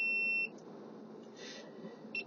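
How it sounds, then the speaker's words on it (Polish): Steady electronic warning chime inside a Kia Stonic, a sustained high two-tone beep for about half a second near the start, then quiet cabin hum with a faint blip near the end. "coś nam tu pika"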